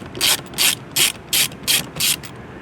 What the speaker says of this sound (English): remove the two screws right next to each other. They'll be on the driver's side or the right side as you're looking at it. You can use a 10mm socket